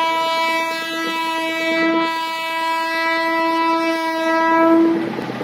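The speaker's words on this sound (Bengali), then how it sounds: "একটা মালগাড়ি যাচ্ছে" A goods train loaded with coal passes a railway level crossing, sounding one long, loud, steady horn blast that lasts several seconds over a low rolling rumble from the wagons, close by.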